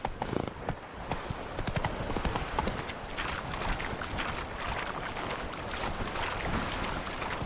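Roach the horse trots along in The Witcher 3, hooves clip-clopping in a steady, quick rhythm over a bed of outdoor ambience.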